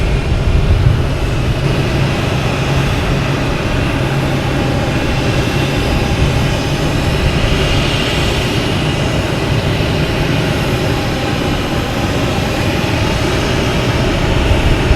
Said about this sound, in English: We have Delta coming in from Louis Armstrong International Airport. 737-800